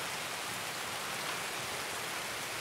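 Rain falling in the video game Escape from Tarkov, heard as a steady, even hiss of rainfall that runs unbroken throughout with no voices over it.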